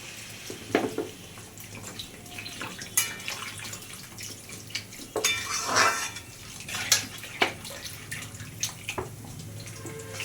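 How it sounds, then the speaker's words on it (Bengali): Water poured into a pan of papaya and potatoes for a shrimp curry in a home kitchen, with scattered splashes, drips and metallic clinks of utensils against the pan; no one speaks. "আমি জল দিয়ে দেবো পেঁপে আলুটাকে"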